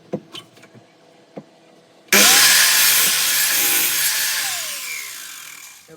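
A power saw starts abruptly after a few light knocks and clicks, then cuts wood for a hobby hi-fi stand in a loud, steady pass. The pitch sags and shifts slightly as the blade moves through the board.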